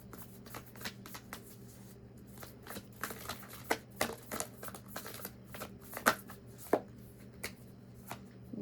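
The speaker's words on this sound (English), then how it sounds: "I'm gonna pull 3 cards for Cancer placements." Tarot cards shuffled and pulled by hand: a steady run of quiet riffling flicks and soft slaps, with a few sharper card snaps standing out, close up and with no talking.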